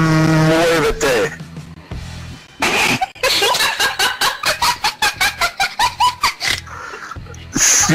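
A man imitates an impatient cow, belting long drawn-out moos followed by a rapid string of short rhythmic moo-like bursts, loud and close, with laughter and talk around it.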